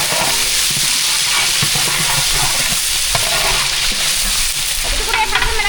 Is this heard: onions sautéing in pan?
yes